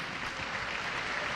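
A church congregation claps in a dense, even wash of applause, heard at a distance and fairly soft, with no voices over it.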